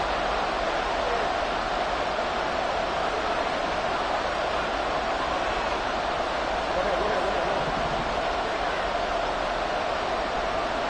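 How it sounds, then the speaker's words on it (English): A football stadium crowd roars steadily on third and long, a dense, loud wall of noise that holds constant from start to finish. "This crowd turning up the decibel level."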